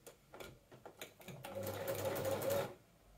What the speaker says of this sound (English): Because I'm stitching so close to the edge, it is inclined to get kind of rocked up by the foot